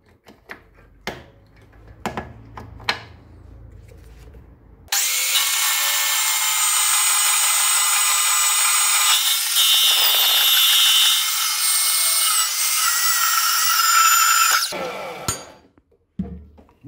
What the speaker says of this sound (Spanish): Y ahora ya sí que podemos dar un corte completamente recto y no se nos va a mover la cinta de sierra.